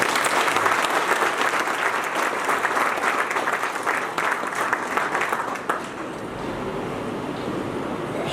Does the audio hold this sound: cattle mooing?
no